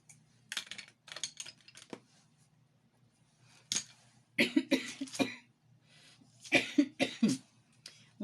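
A preacher with a heavy cough gives several sharp coughs in separate clusters with quiet gaps between them, close and fairly loud, with no speech.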